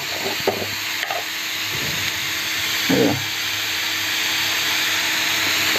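Onion sautés in oil in a pan with a continuous close frying hiss and a few scraping stirs.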